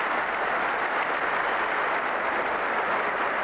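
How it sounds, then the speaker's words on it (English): Generous applause from a cricket crowd after a long innings, a steady dense wash of clapping that holds evenly loud for the whole stretch with no voices standing out. "Generous applause"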